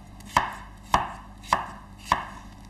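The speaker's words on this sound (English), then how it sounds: "I'm going to use half a cucumber, which I've peeled already. I'm just going to chop that" Four evenly spaced knife chops through peeled cucumber on a cutting board, crisp sharp thuds about half a second apart, close and clear with no voices.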